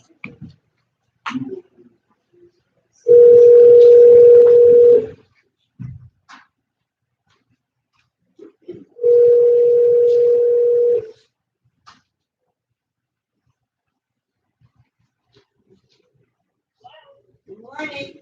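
A steady phone tone sounds twice over a speakerphone at a meeting while reaching a remote board member, each lasting about two seconds with a pause between, and brief clicks and murmurs around them.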